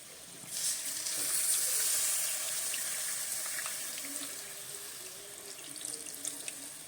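Tamarind water is poured into a fish head curry, giving a steady close splash and gush that fades into a soft simmering hiss.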